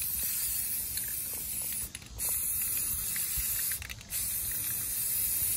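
A spray can hisses steadily up close in long bursts, broken by two brief pauses, with faint clicks from the nozzle.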